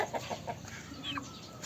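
Silver laced Wyandotte chicken clucking on a farm keeping several breeds, a quick run of soft close clucks followed by a rising squawk-like call, with no one speaking.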